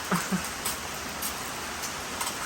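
Soft steady rain patters in the background, a continuous hiss with a couple of brief louder taps near the start.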